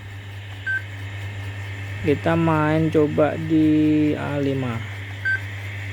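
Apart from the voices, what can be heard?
keypad beeps pressing buttons on Yaesu FT-2900 radio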